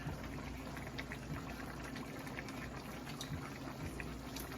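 Jamaican oxtail sauce simmering in a pot makes a soft, steady bubbling and gurgling with small irregular pops, quiet and close, continuing without pause and with no voices.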